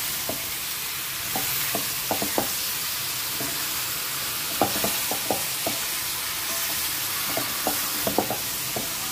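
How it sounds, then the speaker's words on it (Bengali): Boiled, drained jackfruit sautéing with spices in a pan, a steady close sizzle broken by clusters of sharp spoon-and-pan scrapes and clinks as it is stirred, with no talk. "মশলা দিয়ে আগে এঁচোড়টাকে কষে নেব"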